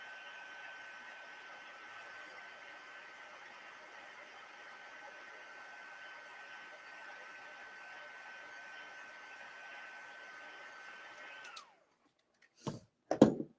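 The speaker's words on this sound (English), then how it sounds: "my heat gun is a lot hotter since I just used it" A heat gun used for card making blows a steady, even hiss for about eleven seconds, then cuts off abruptly, followed by a few brief knocks and clicks.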